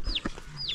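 Chickens in a coop giving short clucks, with a rising squawk near the start and another at the end, set against faint background noise and no speech.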